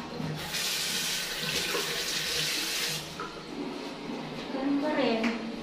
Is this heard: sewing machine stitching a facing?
no